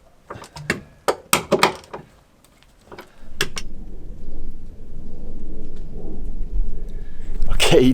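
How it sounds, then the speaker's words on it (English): Steady rain hisses for several seconds after a few sharp knocks and clatters, then a louder gust of noise near the end. "it's still raining and it's still really annoying"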